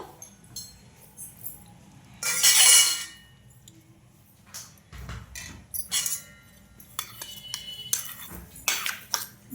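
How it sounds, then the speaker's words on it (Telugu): Buttermilk tempering spooned into vadas, with repeated metal clinks and scrapes of utensils against a bowl, close and irregular, one longer rattling burst early on, no talk. "ఆ తాలింపు అయితే వేసుకుంటున్నాను నేను"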